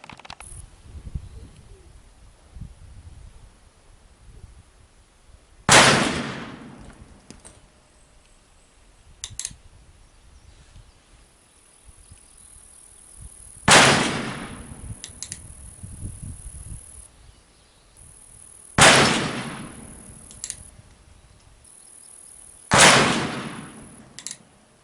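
Four loud, sharp reports from an Uberti Walker black powder revolver loaded with 37 grains of black powder, fired outdoors at a 50-yard target, spaced several seconds apart, each with a decaying tail and quiet background between.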